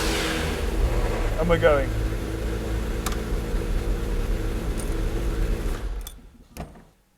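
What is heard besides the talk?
McLaren F1 engine starting and running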